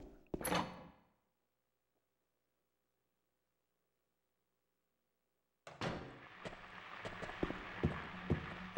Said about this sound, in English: Go through this door.